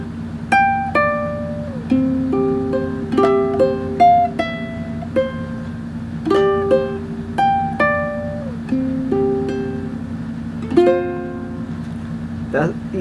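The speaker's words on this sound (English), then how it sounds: "Now grab your ukulele and let's proceed to the intro." Ukulele plays the fingerstyle intro of a song, a steady stream of plucked melody notes over ringing low strings, close and alone for the whole stretch.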